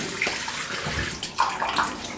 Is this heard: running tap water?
yes